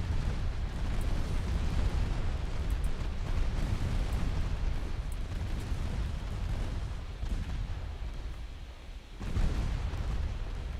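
A battleship being destroyed by gunfire in the naval game Ultimate Admiral Dreadnoughts, heard as a continuous heavy rumble of explosions and cannon blasts, loud and dense throughout with a brief dip before it surges again.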